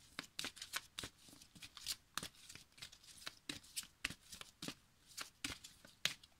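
A deck of oracle cards riffled and shuffled by hand, a steady series of close, crisp flicking bursts with short gaps between them, quiet and alone.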